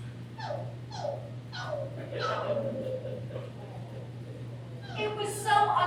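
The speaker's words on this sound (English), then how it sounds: "A puppy in the middle of the room, crying so badly I was afraid to go near it." A puppy whimpering and crying indoors, a run of high, drawn-out whines repeating about every half second, then a cluster of shriller yips, over a low steady hum.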